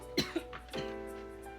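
Two or three sharp coughs in quick succession, close and fairly loud, followed by a longer rasping cough that trails off into a low hum.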